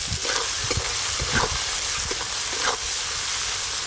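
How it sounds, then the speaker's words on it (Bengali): River prawns fry in a pan with turmeric, salt and spices: a loud continuous sizzle and hiss, broken by several scraping stirs of the spatula. "ভালো করে ভেজে নেব।"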